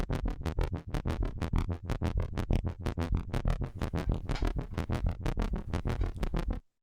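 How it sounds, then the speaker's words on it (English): A Polymax synth on its ARP daemon arpeggiator setting plays a rapid, evenly pulsed stream of bright, harmonically rich bass notes, loud and alone, cutting off abruptly at the end. "that is a Polymax synth, and it is the ARP daemon setting"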